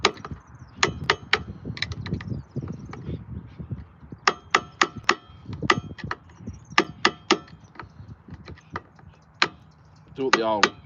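Wood is cut with a hammer and chisel, giving sharp, close knocks that come in irregular bursts with short pauses between groups of strikes.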